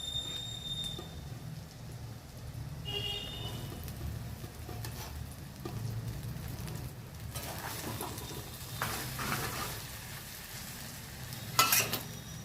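Rice being stirred into a hot pan with cooked potato and paneer, with a continuous close sizzle, scraping stirring strokes and occasional clinks of a utensil against the pan, and no talking.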